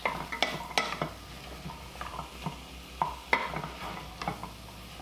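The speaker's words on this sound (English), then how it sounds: "We're going to add in a clove of garlic. Stir it around." Spoon scraping and stirring garlic with vegetables in a pot, oil-free, with a quiet sizzle underneath, a series of soft clinks and scrapes spread evenly through the clip.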